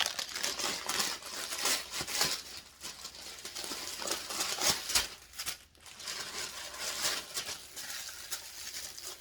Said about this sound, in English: I apologize for the crinkling.